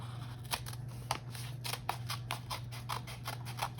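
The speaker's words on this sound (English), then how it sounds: "One hand holding the paper, other hand holding the scissors" Scissors snip through paper in a quick, fairly regular series of crisp cuts, close and moderately loud, with a steady electrical hum underneath and no talking.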